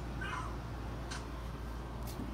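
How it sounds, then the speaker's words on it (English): A small cat meows outdoors in a quiet neighborhood, two or three short faint calls over a steady low background hum. "Hey, little cat."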